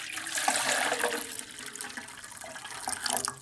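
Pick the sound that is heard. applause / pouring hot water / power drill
pouring hot water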